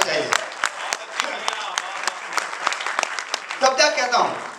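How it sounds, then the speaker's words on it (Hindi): A hall audience at a Hindi poetry recital claps in a dense, sharp burst of applause that swells near the end, with a voice faintly present under the clapping. "ये काम आपकी तालियां कमजोर, जोरदार बजाइए"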